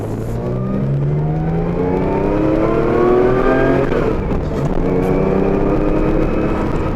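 A Porsche off-road car engine revs and accelerates continuously, pitch rising and shifting through gears, loud and close with no talking.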